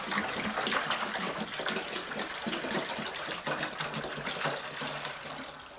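Hawaiian Punch poured into a container, a continuous splashing gush of liquid at close range lasting several seconds with a steady, slightly fluctuating flow.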